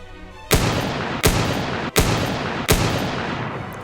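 Four loud gunshots from the PC video game The Source, fired at a steady pace roughly three-quarters of a second apart, each a sharp crack trailing into a long, rumbling tail over a continuous noisy background, with no voices.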